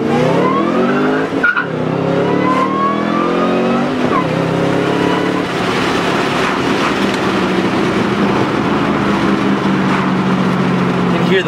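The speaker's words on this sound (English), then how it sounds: "Hear the whine from the supercharger." A supercharged Ford Mustang Roush 427R with 435 horsepower accelerates hard through the gears, a high supercharger whine rising over the engine roar, loud and continuous, with brief pauses at shifts.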